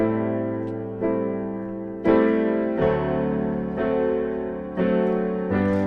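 Piano chords played in a steady repeating rhythm, each new chord struck clearly over sustained notes, moderately loud with no voices.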